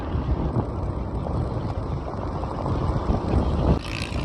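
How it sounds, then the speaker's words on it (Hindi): Strong, steady cold wind roars against the microphone while riding an electric bike, a constant low rumble with gusty swells and no voices. "बहुत ज़्यादा ठंडी हवा है और सर्दी भी लग रही है हमें"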